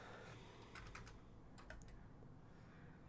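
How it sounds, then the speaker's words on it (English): Computer keyboard typing in a quiet room, a few faint scattered keystrokes over steady low background hum, no voices. "This is my keyboard."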